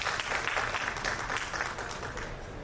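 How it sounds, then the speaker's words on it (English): Audience applause at a stage event on pitching and raising capital, welcoming two speakers onto the stage; steady, dense clapping from a crowd at moderate level throughout. "Big round of applause."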